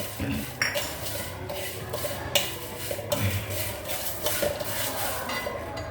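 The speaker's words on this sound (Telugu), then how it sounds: "ఇప్పుడు ఇవి ఏగుతూ ఉన్నాయి కదా" Whole spices such as fenugreek seeds and cinnamon bark frying in a pan, with a soft continuous sizzle, a spoon scraping and clinking against the metal, and occasional louder taps, while a person speaks over it.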